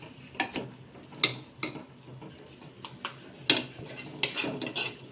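A spoon stirring grated dry coconut into traditional sweet payasam in a metal pot, giving sharp, irregular clinks and scrapes against the pot with quiet pauses between strokes, and no talk.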